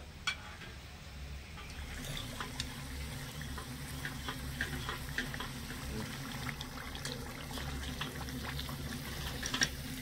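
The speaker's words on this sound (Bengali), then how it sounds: "এই সিঙ্গারাটা একটু সময় নিয়ে ভাজতে হবে" Cauliflower-filled singaras deep-frying slowly in hot oil, a steady bubbling sizzle with scattered crackling pops held at an even level throughout, close by and without voices.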